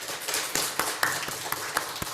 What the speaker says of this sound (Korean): 격려의 박수 시작